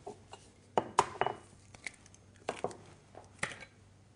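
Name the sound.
adding an egg to chicken kofta mixture in a bowl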